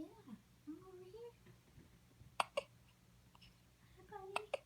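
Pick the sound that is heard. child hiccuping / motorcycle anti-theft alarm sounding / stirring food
child hiccuping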